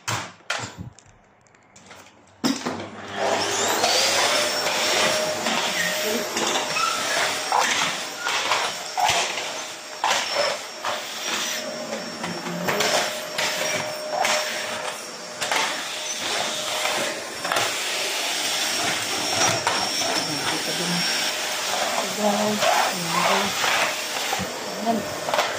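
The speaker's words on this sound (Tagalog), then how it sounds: "mag-vacuum naman ko guys" A household vacuum cleaner starts up after a couple of seconds and runs continuously through a house cleaning session, a steady loud whining motor drone with a faint clatter of movement.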